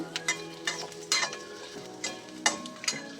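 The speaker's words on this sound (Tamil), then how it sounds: "இந்த சீரகம் சோம்பு இதெல்லாம் போட்டு ரொம்ப வதங்கணும்ட்டு இல்லை லைட்டாக வதங்கினாவே போதும்" Cumin and fennel seeds lightly sautéing in a pan for drumstick kurma, a soft low sizzle broken by several sharp spoon scrapes and stirs at irregular intervals.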